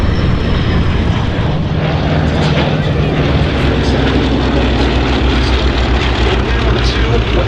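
Westland Lysander propeller aircraft flying at the Duxford airshow, a loud continuous engine drone with propeller roar that holds steady throughout, with faint voices mixed underneath.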